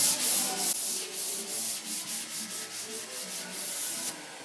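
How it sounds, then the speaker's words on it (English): Soft sandpaper rubbing over a weathered wood kitchen finish on a job site, repeated back-and-forth scratchy strokes in a steady rhythm, close and clear. "I can take a soft piece of sandpaper and soften it up."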